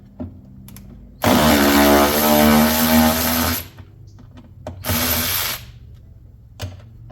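A power drill fitted with a 5/16 socket removes fasteners on a 2021 Can-Am X3 Turbo RR side-by-side. It whirs up loud and close in a long burst, then in a second, shorter burst.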